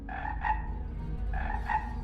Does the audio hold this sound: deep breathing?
no